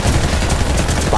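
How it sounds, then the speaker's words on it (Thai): Enemy gunfire in the shooter game Warface, a dense continuous barrage of shots that stays loud throughout the short stretch, with a faint voice underneath. "มันยิงมาแล้วไม่โดน"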